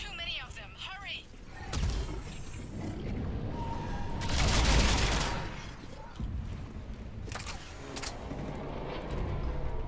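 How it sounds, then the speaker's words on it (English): Anti-synthetic rifle fire in Mass Effect 3 amid battle, with heavy bursts and explosive booms rising and falling over several seconds, mixed with game effects and voices talking. "this anti-synthetic rifle is very good at killing things that aren't synthetic"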